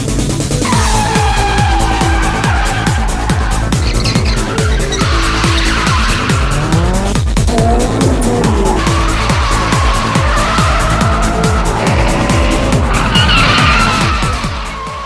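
Street cars drift in an Osaka port warehouse district, engines revving hard while tires squeal and skid continuously in loud, overlapping bursts, close by and without talk.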